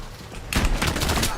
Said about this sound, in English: Gunfire behind us.